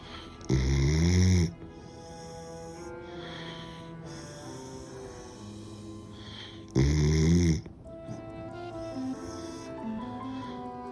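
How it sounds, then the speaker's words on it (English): Someone sleeping deeply and snoring: two loud, rasping snores about six seconds apart, with softer breathing and snuffling in between. "she can finally feel comfortable enough and safe enough to sleep and snore"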